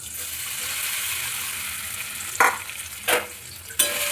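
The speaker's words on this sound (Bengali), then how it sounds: "এটা ভালোভাবে ভেজে নেব" Soybean chunks frying in hot oil in a wok give a steady, moderate sizzle, broken by three sharp scraping stirs of a spatula near the end.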